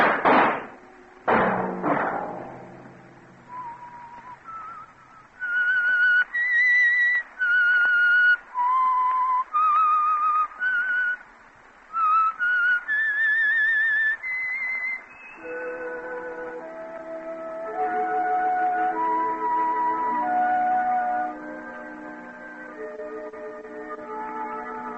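A whistled melody serves as the theme signal of the radio mystery program The Whistler. It opens with a few loud sharp notes, then a clear solo whistled tune of sustained pitches, followed by a sustained orchestral passage.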